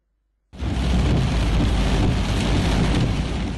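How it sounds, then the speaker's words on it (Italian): A heavy torrential downpour during a storm in the Venice area, a dense, loud, continuous roar of rain that begins abruptly after a half-second of silence and holds steady. "Diluvio, nubifragio, bomba d'acqua"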